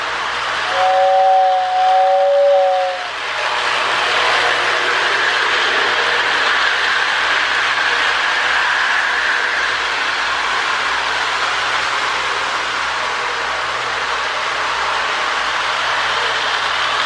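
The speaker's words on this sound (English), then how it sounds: "That's a lot easier to blow the whistle." A Lionel toy train tender's air whistle gives two steady, wavering hoots near the start, then a model train engine keeps up a loud continuous mechanical whir close by.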